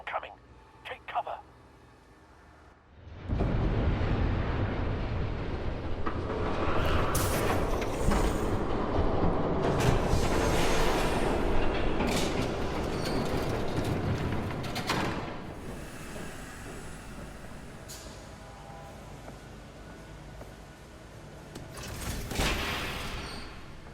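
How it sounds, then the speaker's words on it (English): In Batman: The Telltale Series, a train rushes past with a sudden loud rumble and clatter of wheels that swells and then slowly fades, while voices speak over it. "There's a train coming. Take cover."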